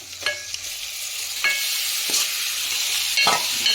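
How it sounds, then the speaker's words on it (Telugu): Mutton frying in oil for a Telangana mutton curry, a steady close sizzle with a few scraping stirs of a spoon in the pan, no talk. "మటన్ అయితే సిమ్లో పెట్టి ఇంకా నూనెలో మొత్తం ఫ్రై అవ్వాలి"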